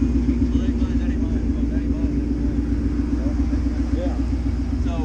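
A deep, rumbling supercharged Toyota Camry engine idles and revs with a throaty, steady drone, close and loud, with a voice faintly present.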